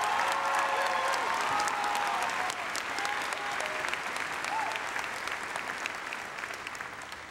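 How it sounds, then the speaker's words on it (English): A graduation ceremony crowd applauds the high school faculty, with steady, sustained clapping from a large audience that fades slightly toward the end and some faint voices beneath. "How about a big round of applause for our faculty?"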